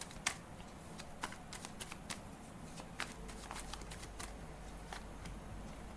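Tarot cards are shuffled by hand in a quiet room, a series of soft riffling flicks and taps at close range, faint and without speech.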